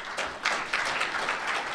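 Conference audience at an enterprise tech summit applauding the organizing committee and a sponsor, a brief, moderately distant patter of clapping from a mid-sized crowd.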